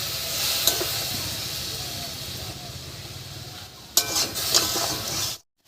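Chicken cutlet mixture being stirred and mashed with flour in a bowl, a soft continuous wet scraping with a few sharper clinks of utensil on the vessel, close and fairly quiet.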